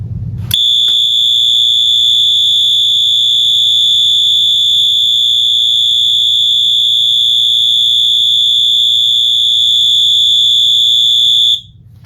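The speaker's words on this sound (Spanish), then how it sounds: "La alarma funcionó durante el tiempo que la tenemos regulada, 10 segundos" A 12V alarm on a timed relay sounds a piercing, steady high-pitched electronic tone continuously for about eleven seconds, loud and close, then cuts off abruptly.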